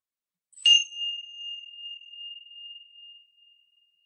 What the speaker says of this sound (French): je vais faire sonner cette petite cloche et au son de la cloche